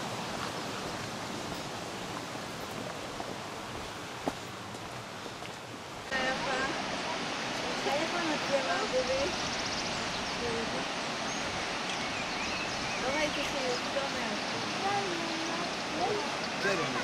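River flowing just below Aun Falls waterfall, a steady broadband rush of water that grows denser and louder partway through, continuous and fairly close, with no voices over it.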